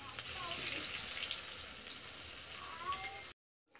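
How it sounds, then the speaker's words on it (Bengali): Taro flower fritters sizzle and crackle in hot oil in a village kitchen, a close, dense frying hiss that runs steadily and then cuts off abruptly near the end. "এখন আমি, তেল গরম হয়ে গেছে, বড়াগুলো দিয়ে নিচ্ছি।"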